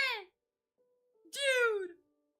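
A cat meows twice up close, a short cry followed by a longer, drawn-out meow, with a faint tone and silence in between.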